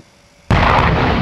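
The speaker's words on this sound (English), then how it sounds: "Stand by! Firing!" A single loud, sudden gunshot boom right after a quiet moment, close and sharp, its blast ringing on to the end.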